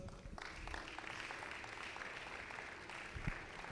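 Church audience applause for a guest speaker, a faint, continuous spread of clapping heard from a distance, steady throughout with no talk over it.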